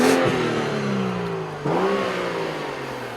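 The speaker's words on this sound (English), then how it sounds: "That's a good sounding 6-cylinder. Straight 6s always sound better than V6s in my book" A 2014 BMW 435i's straight-six engine revs up smoothly, eases off and then climbs again in a second rise, heard close and clear with no talking.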